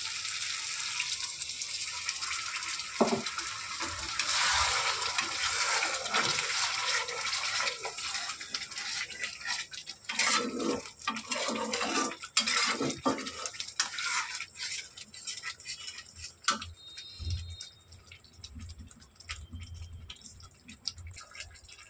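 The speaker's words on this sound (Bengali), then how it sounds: "এবার আমি দিয়ে দেবো মিক্সির বাটি ধোয়া জলটা" Rinse water from a mixer jar poured into a hot oiled pan for a vegetarian mustard-poppy-yogurt potol curry, giving a loud, sustained sizzling hiss with a few sharper crackles and clinks along the way.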